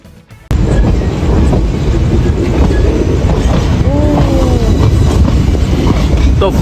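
A passenger train heard from an open carriage door runs loud and close on the rails with a continuous rumbling roar and wheel clatter. Brief squealing tones rise partway through, and no one speaks.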